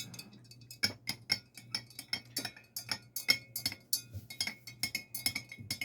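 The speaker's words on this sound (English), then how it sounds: "I'm going to give this a stir." A yeast fertilizer mixture is stirred in a container, giving a quick series of light, ringing clinks and taps in an uneven rhythm, close and fairly quiet.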